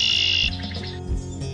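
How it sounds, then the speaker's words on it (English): A red-winged blackbird at a wetland gives a short, loud, buzzy trilling call up close, followed by fainter chirps against a low background hum. "It's a red-winged blackbird,"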